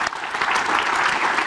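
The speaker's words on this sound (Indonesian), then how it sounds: "tepuk tangan untuk Manik." A short burst of audience applause at a televised political debate, loud and dense from start to finish.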